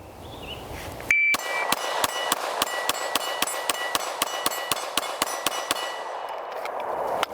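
An uncompensated DR920 pistol fires a rapid string of around fifteen sharp, evenly spaced shots outdoors. Each report rings with a metallic clang.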